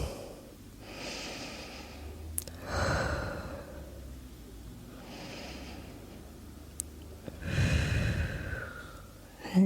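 Deep, slow breaths during a yoga session come as two long inhale-and-exhale cycles, close and breathy with audible rushing air, nothing spoken.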